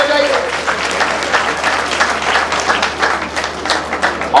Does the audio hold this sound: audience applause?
yes